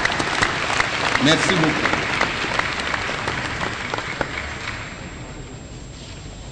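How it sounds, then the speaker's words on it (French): Audience applause for religious leaders standing at a memorial thanksgiving service for Mzee L.D. Kabila, a steady dense clapping that fades gradually, with a brief spoken thank-you over it. "Bon, on peut les acclamer."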